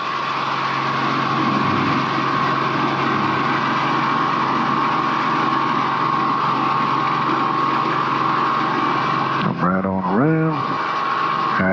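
Helicopter engine and rotor running over a gravel bar on the Mississippi River during a left pedal turn, a steady close whine and thrum that wavers and dips in pitch near the end as the aircraft yaws.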